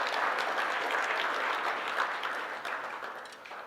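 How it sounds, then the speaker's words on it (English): Applause from an audience at a World DanceSport Federation annual general meeting in Bucharest, a dense, steady clapping that holds for a few seconds and then gradually fades. "Your applause would be really appreciated."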